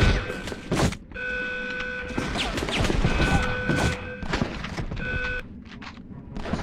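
Gunfire and reloading in the Medal of Honor: Underground video game: sharp thuds and metallic clicks arrive in bursts, while beeping tones from the game come and go behind them. A single shot, then a reload, repeats close and loud.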